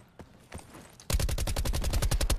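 Rapid bursts of gunfire in a multiplayer battle royale video game, first a few scattered shots, then a loud, sustained automatic volley of evenly spaced cracks close by.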